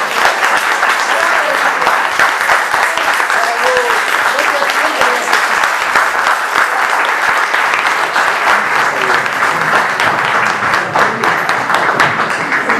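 Loud, sustained applause from an audience at an Argentine artists' awards event, a thick continuous wash of clapping, with faint voices mixed in.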